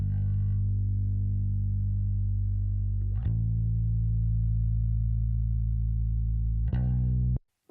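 A deep, sustained sub bass, apparently a tracked electric bass, holds low chord tones, shifting to new notes twice. The tone is smooth and steady, with faint attacks at each change.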